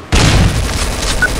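Gunfire in the video game Counter-Strike: Source opens with a sudden loud boom, then carries on as a dense, noisy clatter of shots and blasts, with a few brief high tones near the end.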